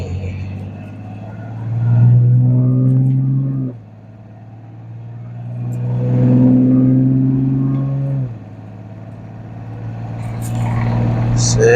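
A BMW E9X car accelerates onto the interstate, its engine rising in pitch through three loud surges, each cut short by a gear change, heard from inside the cabin.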